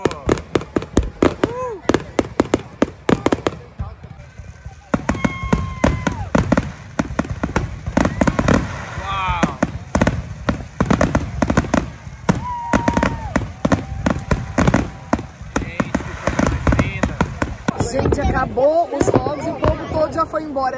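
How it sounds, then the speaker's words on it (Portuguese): Fourth of July fireworks crack and pop in rapid, dense volleys, loud and fairly close, with whistling rises between bursts, while people talk and exclaim over the barrage. "Lá na outra cidade, ó, tá rolando os fogos ainda."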